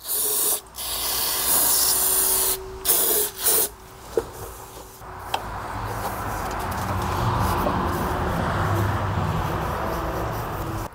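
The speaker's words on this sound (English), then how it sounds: "And also clean this with brake cleaner as well." Brake cleaner sprayed onto the head of a Briggs & Stratton OHV small engine while resealing the valve cover, heard as a few short, close hissing bursts followed by a longer, steady aerosol spray.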